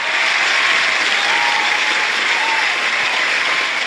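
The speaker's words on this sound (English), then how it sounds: "Give a round of applause, Nemo." Steady, dense applause from a crowd, loud and continuous throughout with no pauses.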